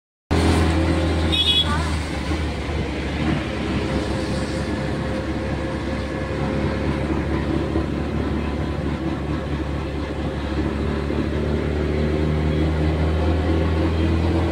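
A tempo vehicle drives along a road toward the Nagzari temple, a constant low engine drone and road rumble heard from inside, with people talking over it.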